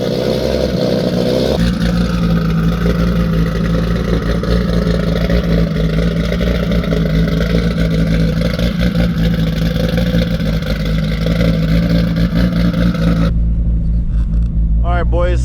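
Steady, loud mechanical drone from a 1000 hp turbocharged Infiniti G35 engine on the street, holding for most of the time, then cutting to a few rising and falling whistle-like sweeps at the end.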